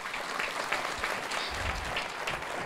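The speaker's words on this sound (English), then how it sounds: "let's give them a round of applause" An audience applauds the evening's sponsors at a late-night event, steady dense clapping throughout with no speech over it.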